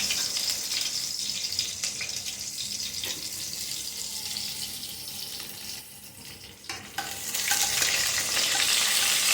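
Curry leaves and spices crackle and sizzle in hot oil in a pan for mutton chukka, a steady close frying hiss that swells louder toward the end.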